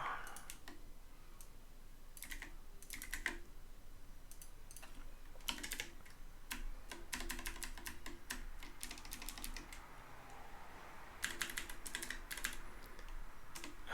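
Computer keyboard typing in bursts of quick, close clicks with short pauses between runs, steady over a low background hiss, no voices.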